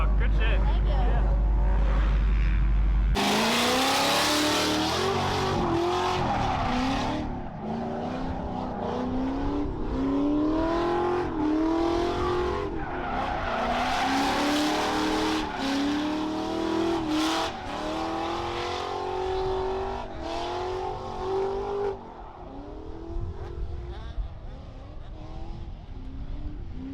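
Rental drift car sliding around the track, its engine revving and droning loudly for most of the time with wavering pitch and tire hiss, while people talk over it.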